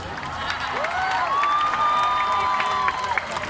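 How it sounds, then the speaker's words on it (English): A crowd at an evening climate event applauds and cheers for Greta Thunberg: a broad, sustained wash of clapping with rising whoops and shouts mixed in. "give her a big round of applause"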